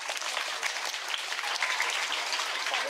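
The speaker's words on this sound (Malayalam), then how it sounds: "ഒരു കൈയടി കൊടുത്തേ" Children clap together in a school classroom, a dense steady round of applause that stays loud and even for the whole stretch, with no talking over it.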